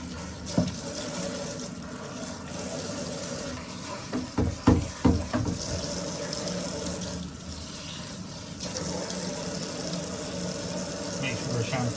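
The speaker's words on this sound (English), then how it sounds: "So I'm going to do now, rinse it out again." Running water rinsing shampoo out of a non-surgical hair replacement system, a steady close splashing flow with a few brief squelching pulses midway as the hair is handled.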